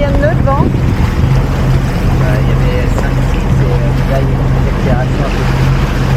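Sailboat in Martinique motoring on its engine over a calm sea with no wind, a loud steady low engine hum with water rush, while people talk over it.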